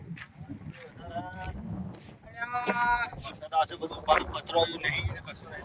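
Cows on a farm moo in drawn-out calls, one near the start and a louder one in the middle, amid outdoor noise after a storm, with voices talking throughout.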